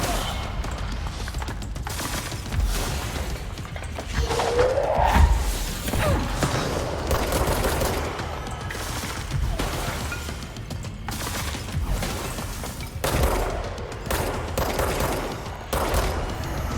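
A gun firing in a video game: repeated sharp shots at an uneven rhythm over a constant noisy game backdrop, with a brief rising mechanical whine partway through.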